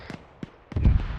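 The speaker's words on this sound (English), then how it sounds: "Friendly mortar's going out." Mortar rounds fire in the ArmA 3 military game: a few soft, distant thumps spaced apart, then a heavier, louder boom near the end.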